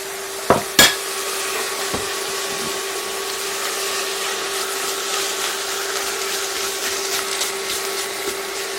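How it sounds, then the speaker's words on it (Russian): Carrots and minced meat fry in a pan, a steady broadband sizzle running throughout with two sharp utensil knocks near the start and no talk. "Обжариваем морковку вместе все с этим, с мясом, с фаршем"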